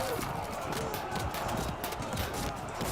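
Galloping cavalry horses in the Field of Glory II strategy game, a dense, steady rumble of hoofbeats blended into continuous battle noise with no clear individual strikes.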